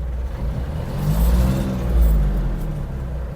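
Iseki TG-31 Japanese mini tractor engine running while being shifted through its gears, a steady close low rumble with two slight surges in load.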